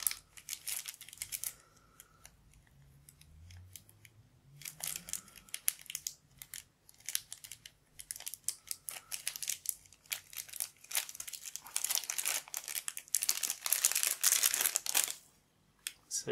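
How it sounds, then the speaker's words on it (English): Crinkly plastic packaging is peeled off a gold Club Nintendo Year of Luigi coin, with close, crackling rustles that start and stop in several bursts and grow busier near the end. "I'll just take this plastic bag off."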